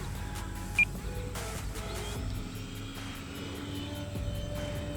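An E-Flite Commander 4S RC plane drones overhead at a distance, its electric motor hum steady and faint with a slowly shifting pitch.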